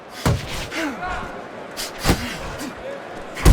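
Boxing punches landing in the video game Fight Night Champion, several sharp, heavy thuds spaced irregularly over commentary-like talk and crowd murmur, with the loudest impacts near the start, middle and end.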